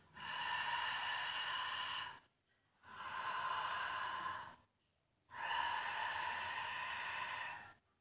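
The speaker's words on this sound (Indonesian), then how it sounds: "Ujjayi breathing nafas yang bunyi." Three long, audible ujjayi breathing exhales, each a steady oceanic hiss lasting about two seconds, separated by short silent pauses and heard alone at close range.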